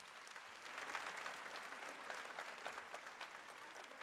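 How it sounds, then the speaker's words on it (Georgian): A concert audience at a Georgian folk dance ensemble's show claps in sustained, even applause, quiet and somewhat distant, with no voices standing out. "ნამდვილად იმსახურებს ასეთ აპლოდისმენტებს ეს პიროვნება"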